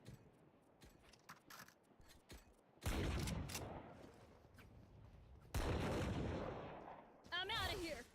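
Gunfire in the tactical shooter Valorant: short clicks and taps first, then two long, loud sustained bursts of automatic fire, close and harsh, with a brief sharper burst near the end.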